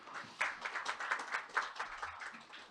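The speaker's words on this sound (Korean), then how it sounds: "큰 박수 부탁드리겠습니다." Applause at a Korean medical policy symposium panel, moderate and steady with a few louder bursts, greeting a kidney specialist introduced as a panelist.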